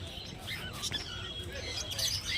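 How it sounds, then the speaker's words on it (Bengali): Budgerigars and other caged birds chirping and tweeting at the Garia bird market, a busy overlapping chatter of quick high calls with a low background murmur. "এখানে দেখছেন বেশ কিছু বদ্রি পাখি"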